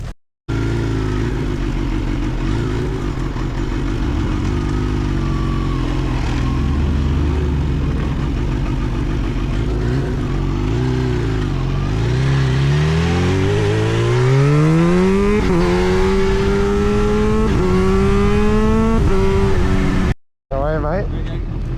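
Kawasaki ZH2 motorcycle ridden through mountain twisties on the Old Pacific Highway near Sydney, its engine droning steadily and then revving up through the gears in rising sweeps, loud and close with heavy wind noise.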